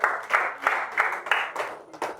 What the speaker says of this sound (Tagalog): 10 lang ang pumalakpak